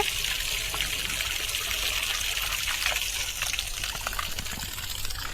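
Water pours and trickles steadily from a spring at an old temple in Ramagiri, Andhra Pradesh, a continuous close splashing hiss with no voices over it.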